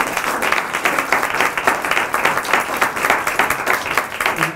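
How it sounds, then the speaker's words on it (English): An audience at a book talk gives loud, sustained applause, with dense rapid clapping that stays full and even throughout. "Let's give her a round of applause"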